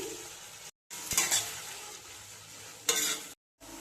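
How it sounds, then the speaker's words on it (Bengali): Chopped ginger, garlic, onion and chili hit hot mustard oil with a crisp sizzle, brief stirring scrapes and spatula taps between two short breaks of silence. "তেলটা গরম হয়ে গেছে, এবার আমি আদা রসুন পেঁয়াজ কুচি দিয়ে দিচ্ছি"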